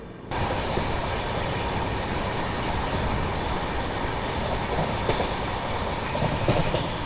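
A passenger train pulls out of a station stop on a line toward the Araku Valley, its steady rolling rumble and clickety-clack of wheels on rails continuous and close, with a few brighter metallic squeals and clanks near the end.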